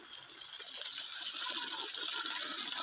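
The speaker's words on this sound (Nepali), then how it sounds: "यो पानी यसबाट आउने पानी 24 घण्टा" Water gushing steadily from a source at a farm beside paddy fields, a constant bright rushing hiss that stays even throughout, fairly close.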